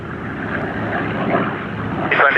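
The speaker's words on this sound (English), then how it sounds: "B-25 midfield for downwind to land" Rumbling piston engine drone of a B-25 bomber at an English airshow, a steady low roar with a voice over it and a brief rise near the end.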